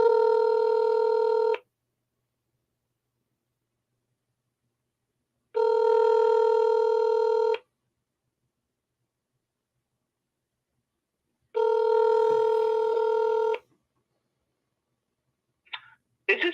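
Telephone keypad tones dial an extension on a business phone line: three sustained tones of about two seconds each, separated by silent gaps, followed by a few faint clicks.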